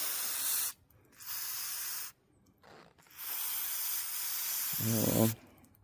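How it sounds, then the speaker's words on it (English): Several bursts of aerosol spray hiss, short and long, into a part of a 1995 Chevrolet Caprice Classic, separated by pauses, close by, followed by a brief low clunk near the end. "Just spray that in there."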